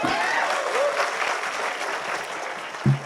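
An audience at a World No Tobacco Day poetry recital applauds in a steady, dense wash of clapping that runs the whole time, with a brief louder thump near the end.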